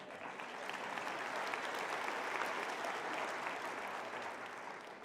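Theater audience at a performing arts center applauding steadily, a dense even wash of clapping from many hands lasting throughout, fairly faint and without talk.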